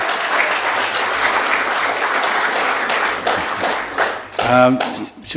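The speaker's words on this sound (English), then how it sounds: "let's give Danny a big round of applause as well" Audience applause fills a hall at a sports awards night, steady dense clapping carried close and loud, with a brief burst of cheering and a voice near the end.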